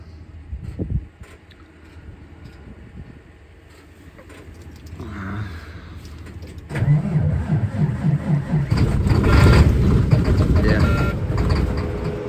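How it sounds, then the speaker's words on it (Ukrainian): A Freightliner Cascadia truck's diesel engine cranks and catches after sitting unused for days in frost, then settles into a loud, rough idle with faint talk before the start. "подивимося, як він зараз заведеться, пару днів не заводився"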